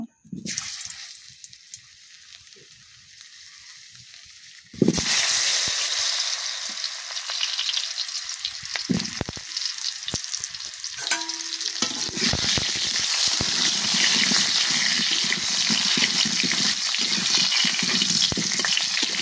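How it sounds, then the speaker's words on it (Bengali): Potatoes drop into hot oil and sizzle strongly, a loud steady frying hiss that starts abruptly after a quieter opening and continues with occasional stirring clatter. "গরম হয়ে গেছে তেল বন্ধুরা, এবার আমি আলুগুলো একটু ভেজে নেব।"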